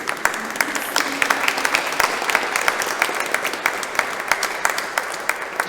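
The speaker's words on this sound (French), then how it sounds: "Je crois qu'on peut applaudir Odile Monté" An audience at a lecture applauds the speaker, a steady mid-level wash of clapping with a few sharper nearby claps popping out at irregular moments.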